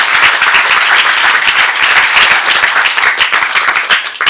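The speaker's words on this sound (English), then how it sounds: "give them a round of applause" Loud, dense applause from a community meeting audience in Rocky Mount, many hands clapping close and continuously for about four seconds, with no one speaking over it.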